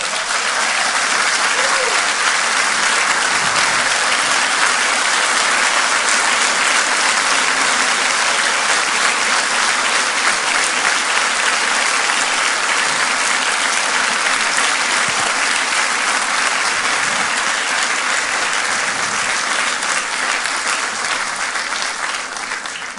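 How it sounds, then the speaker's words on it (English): Sustained, thunderous applause from a large crowd of mourners at a police officer's funeral, dense clapping holding steady at full strength throughout with no pause. "Thank you for that applause for them."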